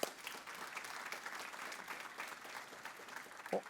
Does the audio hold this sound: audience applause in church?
yes